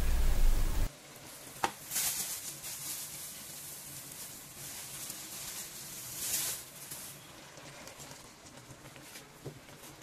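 Pomegranate and sugar cooking down together in a pot for traditional pomegranate paste, giving a soft, steady sizzle and bubbling close by, with a brief louder clatter near the start and a few faint knocks.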